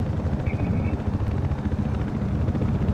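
Helicopter in the video game Battlefield Hardline, a loud, close rotor chop with a rapid pulsing thump over a rumbling engine drone, steady throughout.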